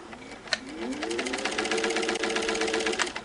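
A hand-cranked Singer Model 15 sewing machine runs steadily for a few seconds, its needle mechanism clattering in a fast, even rhythm close by, with a sharp knock near the start.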